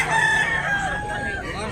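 Roosters crow at a backyard breeders' sale in Tabunok, Talisay, Cebu, with stretched calls rising and overlapping close by, some clucking mixed in, and a voice faintly underneath.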